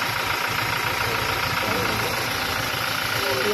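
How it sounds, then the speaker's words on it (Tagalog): Toyota Fortuner 2GD diesel engine idling with blow-by, a loud continuous rumbling drone with a knocking pulse, steady throughout at close range. "meron tayong isang Toyota Fortuner 2GD engine. Pero kinukunan lang natin ng video habang nakaandar."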